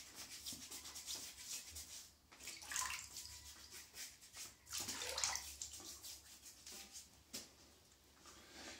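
Water splashes and rubs against a face being wetted for shaving, faint and close, in irregular bursts with no talk.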